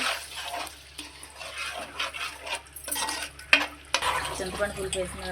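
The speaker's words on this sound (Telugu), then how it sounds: "ఇప్పుడు చింతపండు పులిపి వేసుకోవాలి అగోండి బాగా కలుపుకోవాలండి" Tamarind pulp being stirred into a simmering protein curry in a pot; irregular scraping spoon strokes and clinks over a low sizzle, close by and without speech.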